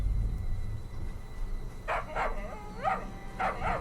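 A dog in the TV series Good Omens barks several times. The sharp, fairly loud barks come in quick pairs over a low background hum.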